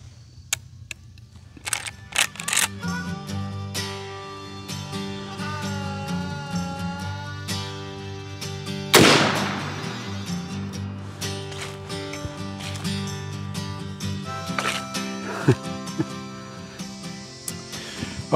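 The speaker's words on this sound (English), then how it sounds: "The first shot's going to be the FTX, and then the second shot is going to be the XTP." Two .357 Magnum shots, one firing a Hornady FTX bullet and one an XTP, ring out with a sharp loud crack near the middle and a second, lighter report later, amid clicking camera and handling noises.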